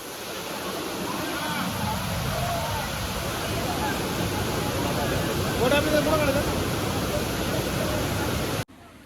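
Kalu waterfall at Malshej Ghat roars as a dense, steady rush of falling water, broad and continuous, heard from a viewpoint with faint voices blended underneath before it cuts off near the end.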